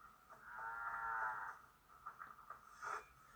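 A cow in Assassin's Creed Valhalla gives a drawn-out low moo, followed by a shorter second lowing sound, quiet and alone with no talk.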